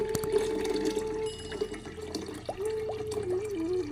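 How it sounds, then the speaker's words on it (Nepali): About one liter of water goes into a two-liter pot for homemade apple cider vinegar, first as a steady pour, then as gentle sloshing and gurgles from stirring, close and moderately quiet. "यो चाहिँ 2 लिटरको भाडा हो, तर मैले 1 लिटरको पानी अब मैले यहाँ राख्दैछु।"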